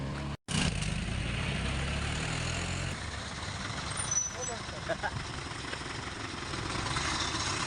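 A Motorstar Easyride 175cc FI motorcycle engine idles with a low, steady rumble, a short cut near the start, and faint background noises over the idle.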